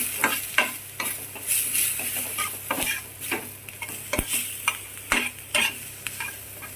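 Vegetables stir-fried in a pan for hakka noodles: rhythmic spatula scrapes and knocks over a steady sizzle, loud and close, with repeated strokes throughout.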